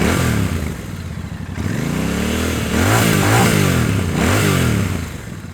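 A Royal Enfield Bear 650 scrambler's exhaust rumbles loudly and close, with the engine revving up and down through several rises in pitch as the bike rides along.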